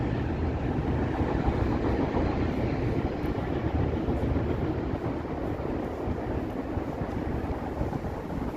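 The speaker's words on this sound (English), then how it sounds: "Here, another train. Can't see it though. It's in that trench." A train runs unseen through a city rail trench on a near-freezing evening in Toronto, a steady broad rumble that holds at an even level throughout without rising or fading.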